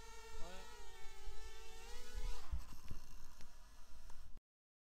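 High-powered FPV racing drone motors on a maiden test flight whine in rising and falling harmonic tones, then give way to a rougher buzzing rush, close and steady.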